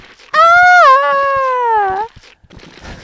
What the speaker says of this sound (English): Leon and Quare's death screams in this game are fucking funny.